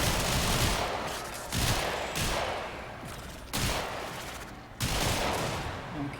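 Rapid bursts of gunfire aimed at Lephantis, a boss in the Warframe video game, come in loud, dense volleys with short gaps between them, carrying on for the full stretch.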